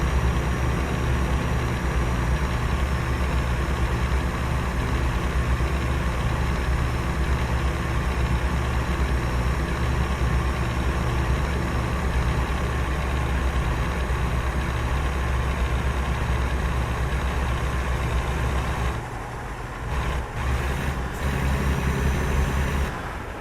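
A heavy truck engine in American Truck Simulator drones steadily and loudly, with a brief dip and break near the end like a gear change before the engine note resumes.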